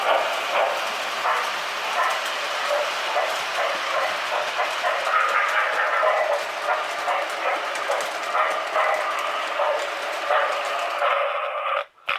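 A K-Line or RailKing Hiawatha Pacific model train rumbles and clicks steadily along its track, close by and continuous, then stops abruptly at the end.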